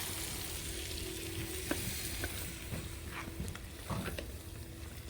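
Curried chicken frying and bubbling in a pan over an outdoor campfire, a steady close sizzle with a few faint clicks and pops, no talking.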